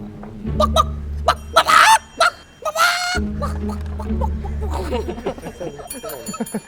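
A man imitates a chicken, squawking and honking in loud bursts over a low steady hum, his clucks broken by pauses, with laughter-like chuckles near the end.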